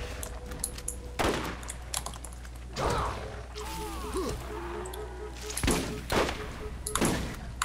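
Gunfire in Borderlands during a fight with an adult skag, with several sharp shot bursts mixed with game noises and clicking, while players talk over the action.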